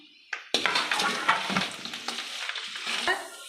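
A sudden burst of sizzling as garlic drops into hot oil with curry leaves and dried red chilies, then a steady crackling fry with a few clinks and stirring noises.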